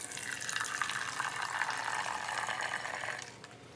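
Water from a cup pours steadily into a container for a few seconds, a continuous close splashing trickle that tapers off near the end, with no talking.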